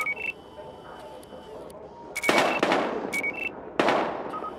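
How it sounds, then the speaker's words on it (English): Gunfire in the video game Battlefield Hardline: a few sharp, loud broadband bursts, one near the start and a couple more in the last half, over a low steady background with brief electronic beeps. "We've got gunshots."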